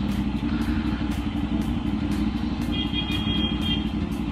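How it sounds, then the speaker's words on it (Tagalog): Busy midday street traffic in Ongpin, Manila, with cars and motorcycles idling and creeping along, a steady close engine rumble with scattered clatter and no talking. "medyo traffic dito sa Ongpin"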